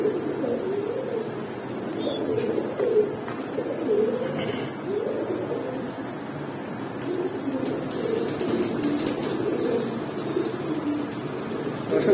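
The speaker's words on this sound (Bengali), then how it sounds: "এগুলো হাই ফ্লায়ার কবুতর, অনেকক্ষণ উড়াইতে পারবেন এগুলো।" High flyer pigeons at a farm coo in a steady low murmur that runs throughout, several birds overlapping near the microphone with occasional faint chirps above.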